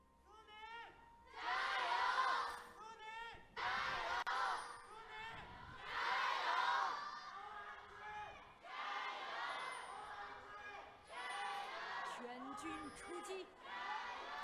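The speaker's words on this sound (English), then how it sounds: "the crowd's just letting loose" An esports arena crowd at a League of Legends match in Chengdu roars and cheers in repeated swells, heard beneath a caster's excited commentary.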